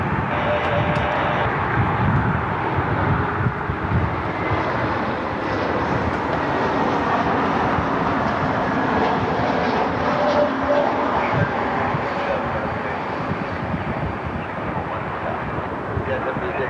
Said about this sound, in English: Southwest flight to Denver is finally taxiing.